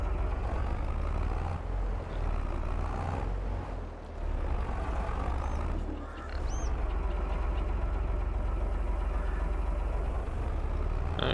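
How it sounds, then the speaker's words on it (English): A tractor in Farming Simulator 22 slowly backs up, its engine giving a steady low rumble and drone for several seconds with brief dips, a faint hiss and an occasional beep. "It's a bit slow getting into reverse, this tractor"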